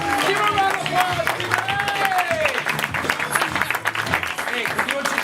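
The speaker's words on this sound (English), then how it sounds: "Give a round of applause." Applause from a comedy club audience at First Coast Comedy rises in a loud, dense burst with some cheering, while background music plays and voices talk and laugh over it.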